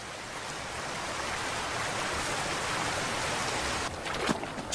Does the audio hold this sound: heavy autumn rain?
yes